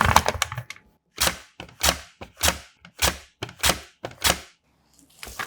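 Thin slices of lotus root are pushed across a mandoline slicer, producing a steady series of about eight crisp, sharp chopping clacks in an even rhythm, close and distinct with brief gaps between strokes.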